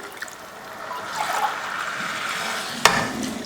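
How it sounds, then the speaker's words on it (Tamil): Water poured into a pot of rice for biryani, a close trickling and splashing stream that swells in the middle, with a brief sharp clink near the end. "இதில் தான் இப்போ நம்ம தண்ணி சேர்க்க போகிறோம்."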